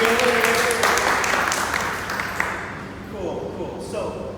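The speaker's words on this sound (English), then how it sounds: "A round of applause." An audience at a talk applauds a speaker, with loud, steady clapping that gradually thins out and softens toward the end.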